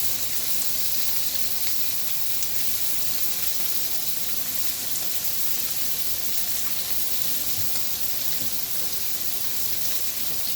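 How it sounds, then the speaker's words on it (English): Shrimp sizzle steadily in a hot pan, a dense, even frying hiss that holds at the same level throughout, with no voices over it. "we're going to add in all the shrimp"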